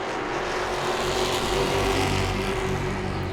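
Grand Stock cars race around Langley Speedway, engines roaring loud and continuous as the pack comes out of turn two, a steady dense drone with no voices.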